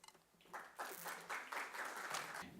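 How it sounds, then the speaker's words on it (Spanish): Applause from a seminar audience at a university social security conference comes in uneven bursts, fairly faint and distant, with bouts of clapping that rise and fall in a loose rhythm. "Un fuerte aplauso para ellos."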